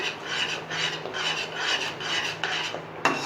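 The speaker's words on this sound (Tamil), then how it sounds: "இப்போது இதை நல்லா கலந்து விட்டுக்கலாம்." A spoon scrapes and rasps around a pan, mixing Kashmiri chili powder into dum aloo masala. The strokes are steady and repeated, close up and fairly quiet, and no voices are heard.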